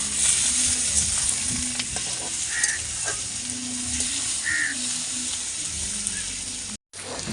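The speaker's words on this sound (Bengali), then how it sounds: "মাছের তেলটা দিয়ে আরও পাঁচ মিনিট ভেজে নিতে হবে" Fish oil sizzles steadily and loudly as it fries with onion and garlic in a pan for a Bengali greens dish, a continuous close hiss with one brief dropout near the end.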